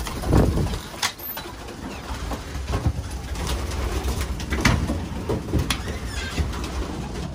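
Several racing pigeons coo softly and repeatedly nearby in the hen section of a loft, mixed with wing flutters and light shuffling in an enclosed space.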